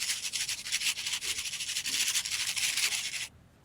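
Lemon zest is grated over melted butter as a steady, close, scratchy rasp of repeated quick strokes that runs for about three seconds and then stops abruptly.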